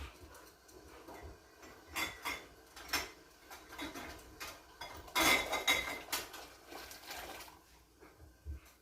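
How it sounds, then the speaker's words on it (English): Small 4-ounce glass canning jars are set out during grape jelly canning, giving scattered close clinks and knocks of glass against glass and hard surfaces, with a sharper clatter midway. "We'll bring out 2 jars."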